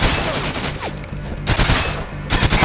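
Rapid gunfire in Goldeneye 007 for the Wii, with loud bursts of automatic shots coming in clusters and short gaps between them.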